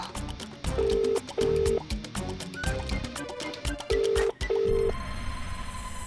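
A telephone rings in a repeating two-burst pattern of steady tones, loud and close, with a gap between the pairs and some low background noise in a comedy scene.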